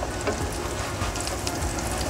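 Slice of cornmeal mush frying in a pan just after being flipped, a steady close crackling sizzle with fine spitting pops throughout, no voices.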